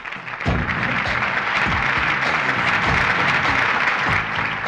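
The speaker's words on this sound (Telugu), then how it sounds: "క్లాప్!" A crowd claps steadily at an award moment in a film scene, dense and loud, with no one speaking.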